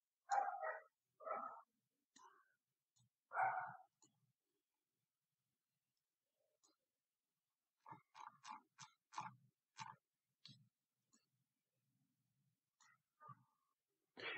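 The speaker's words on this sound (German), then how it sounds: "da draußen bekämpfen sich gerade zwei Mini-Hunde" Two small dogs fight outside, giving faint, sharp bursts of barking and yapping in scattered clusters separated by silence.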